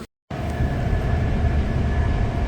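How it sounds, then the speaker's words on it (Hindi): A passenger train rushing along at 156 km/h, heard from inside the carriage as a loud, steady roar and rumble that starts abruptly after a brief gap and swells slightly, with no voices. "ये है जी ट्रेन जिसमें हम सफ़र कर रहे हैं और इस वक्त ये 156 किलोमीटर पर आवर की स्पीड के साथ ये ट्रेन चल रही है"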